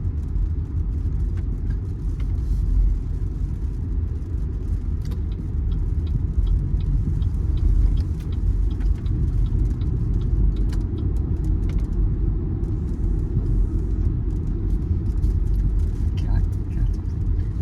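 Steady road rumble and tire noise from a BYD Sealion 7 Performance electric SUV on an undulating test road, with faint interior rattles throughout.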